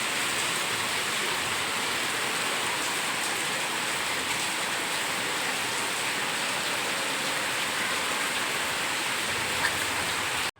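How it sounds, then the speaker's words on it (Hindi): Heavy rain pours down everywhere in a steady, dense hiss of drops on surfaces, loud and unbroken throughout with no voices. "देखिए हर जगह बारिश हो रही है।"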